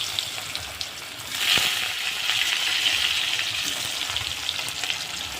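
Potatoes fry in a pan with a steady, close sizzle that swells after a sharp clatter near the start and continues evenly, with faint stirring.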